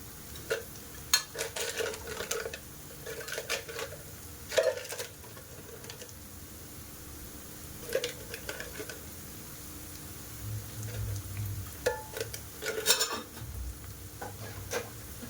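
Soybean keema spices being stirred in a pan, with faint sizzling under intermittent scraping and clinking stirring strokes, quiet and close.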